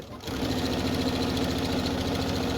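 Sewing machine lock stitching through layered fabric on an accordion pouch, a steady rapid mechanical chatter that starts abruptly and runs loud and close without pause.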